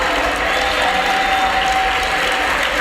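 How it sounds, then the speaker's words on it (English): A crowd applauds continuously in the House chamber during a Speaker of the House vote, steady dense clapping with a faint tonal hum running through it. "Everyone clap."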